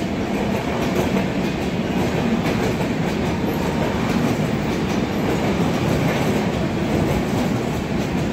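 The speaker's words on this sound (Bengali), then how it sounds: "এই ট্রেনটা এখন আপনারা দেখছেন, ওটা শিয়ালদা থেকে ছেড়ে আপের দিকে যাচ্ছে" An up suburban train leaving Sealdah runs past on the platform 2 line at a Kolkata station, loud continuous rumble with rhythmic clickety-clack of wheels close by, no talking.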